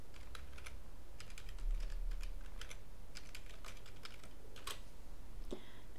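Keys clack on a computer keyboard while a signup form is filled in, a steady run of light close-up keystrokes in short bursts with brief pauses, no voices.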